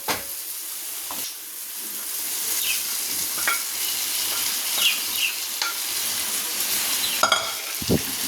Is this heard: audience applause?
no